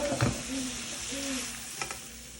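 Fried rice stirred in a pan after the gas is turned off, a faint residual sizzle under a couple of spoon scrapes and clinks, close by and without talk.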